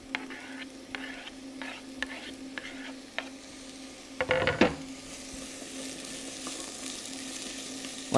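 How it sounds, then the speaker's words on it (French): Carrots, onions and garlic sweat in a pan over moderate heat, giving a soft steady sizzle, with a few light stirring taps and a brief louder scrape of a utensil midway. "Je vais d'abord mettre donc mes légumes que je vais faire suer. Donc carottes, oignons, ail."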